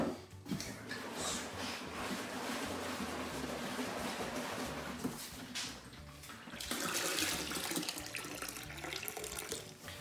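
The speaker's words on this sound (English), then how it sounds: "this is gonna let us swirl it all around and get any of the grape juice concentrate that might be stuck to the sides out and into our fermenter" Water is poured and swirled inside a Vine Co New Zealand Sauvignon Blanc wine kit bag, then rinsed into a fermenter. A steady, close splashing and sloshing runs throughout and swells louder near the end, with no talk.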